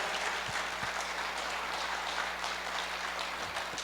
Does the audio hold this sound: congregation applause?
yes